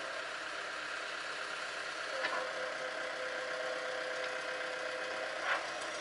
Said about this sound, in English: Look, they got a tractor in there.